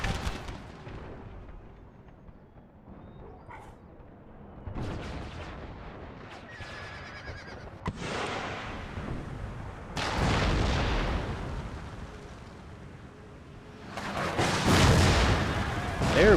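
Napoleon field cannons in Empire: Total War fire on cavalry in heavy, rumbling booms spaced several seconds apart, each blast swelling and rolling out before the next.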